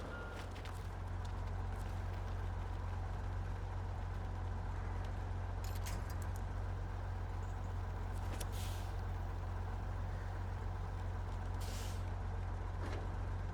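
A truck hauling a trailer in the video game Snowrunner drones with a steady low engine rumble throughout, broken by a few sharp hissing bursts like air brakes.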